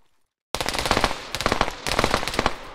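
After a moment of silence, a rapid crackling barrage of sharp bangs and pops bursts out in a competitive match of a video game, loud and continuous in three surging waves.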